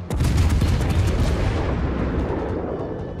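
Heavy naval gun salvo from a cruiser in World of Warships, a loud booming blast that rolls into a long rumbling decay, with no speech.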